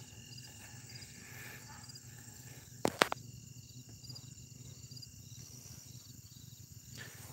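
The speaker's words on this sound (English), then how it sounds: "All these insects." Crickets and other insects chirp steadily outdoors on a misty mountainside, a continuous high, even trill, with a couple of brief sharp knocks partway through.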